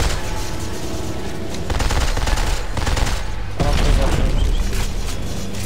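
Dense gunfire in Dead Space 3's Awakened DLC as players shoot at a reactor to force an overload, with loud sustained bursts of rapid shots and booms layered over game noise.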